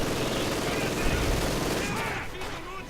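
Bursts of gunfire from the strategy video game Company of Heroes 2 crackle continuously in a dense, loud battle mix, fading slightly toward the end.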